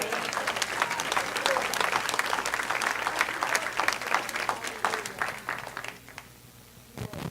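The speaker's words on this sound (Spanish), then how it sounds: "Denle un aplauso al Señor." A church congregation at a Sunday service bursting into loud, sustained clapping that fills the room, then thins out and fades near the end, with a few last claps trailing.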